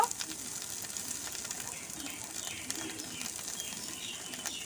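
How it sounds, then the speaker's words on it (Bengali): Spice paste fries and is stirred in a pan for a chicken liver, stomach and feet dish, giving a steady, faint hiss of sizzling with occasional light scrapes throughout. "নেড়ে নেড়ে মশলাটা ভালো করে ভেজে নেব"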